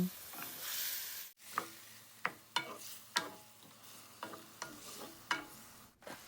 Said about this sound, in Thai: คนให้ส่วนผสมเข้ากัน